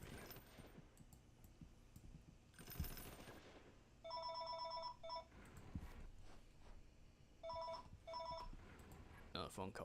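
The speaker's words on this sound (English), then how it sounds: "Another phone call." In a Roblox combat game, a telephone rings in two bursts of repeated electronic trills, each lasting about a second, over faint background game sounds and a person speaking.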